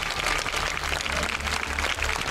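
Loud, sustained applause fills a church, a dense wash of many hands clapping together with no break and no voices on top.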